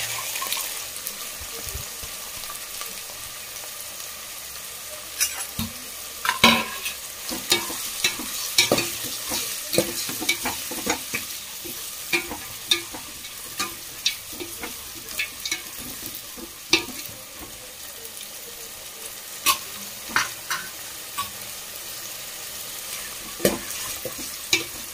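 Tomatoes frying for street-style egg rice, a steady sizzle under repeated scraping and clattering stirs of a utensil in the pan, close and busy throughout.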